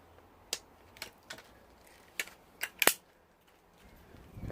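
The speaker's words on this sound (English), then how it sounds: "Again, using the pellet seater." Pellet being pressed into an HW45 air pistol with a pellet seater, heard as a series of sharp, quiet metallic clicks spaced irregularly, with one louder snap near the end.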